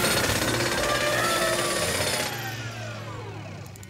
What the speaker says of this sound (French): Et si je prenais le fameux tournevis supersonique numéro 9?